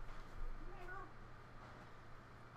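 Pet cat gives a soft rising meow indoors at a close, quiet distance, with faint room noise around it.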